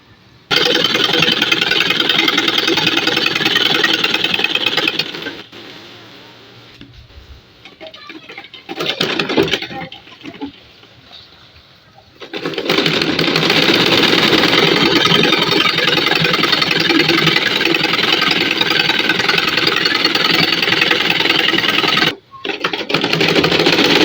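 A sewing machine runs loudly and steadily as it stitches around the leg openings of a salwar. It stops for several seconds with only faint stray sounds, then whirs again in a long continuous run.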